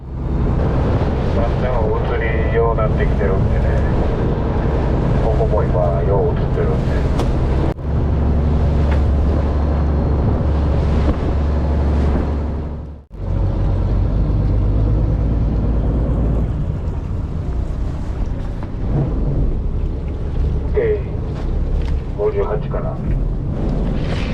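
A loud, continuous fishing boat engine drones throughout at sea in Osaka Bay, with a brief cut in the middle before the rumble resumes; a voice speaks over it.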